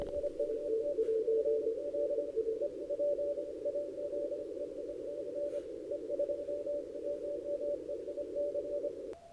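An amateur radio station received over a remote radio on 17 meters through a Yagi antenna: a steady, faint tone under a low hiss of noise, holding nearly unbroken throughout with a short break near the end.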